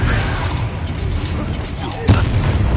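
The Bombarda explosion spell goes off in Hogwarts Legacy on PS5 as one sudden loud blast near the end, cutting through a dense rumbling background of game noise.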